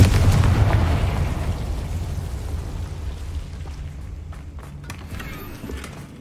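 A Confringo fire spell from Hogwarts Legacy bursts loudly right at the start, a heavy booming blast whose rumble slowly fades across several seconds, with faint game effects ticking in the tail.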